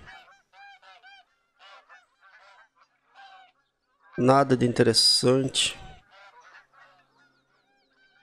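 Wild geese honk loudly in a dense burst for about two seconds in a video-game hunting area, with quieter speech before and after.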